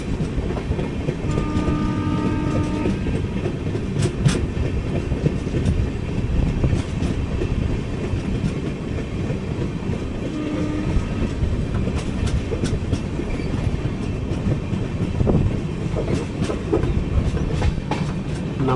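The Kacheguda Madurai Superfast Express rolls along South Central Railway track toward Pakala Junction, a loud continuous rumble heard from on board with steady wheel clatter and faint squeals, no voices.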